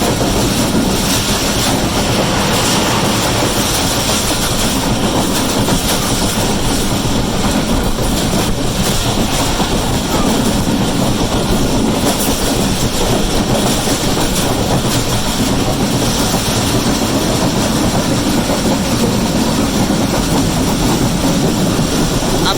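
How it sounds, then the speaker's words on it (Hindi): A passenger train on the Nawabshah to Karachi line rumbles along its rails near Dandi station, a loud continuous roar of wheels and engine heard from onboard with no break. "अब हमारी ट्रेन डांडी रेलवे स्टेशन पर स्टॉप करेगी।"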